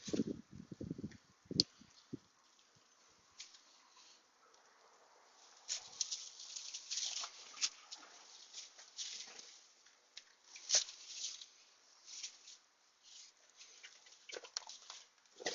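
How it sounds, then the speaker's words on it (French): Faint, sparse pattering of light rain, scattered soft taps against a quiet background, outdoors near Mirabeau. "Un peu de pluie."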